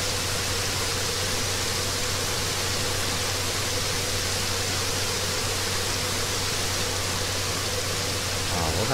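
A toy fire truck sprays water at a fire in a continuous broadband hiss that stays loud and steady throughout, with a low hum underneath and a slight change right at the end.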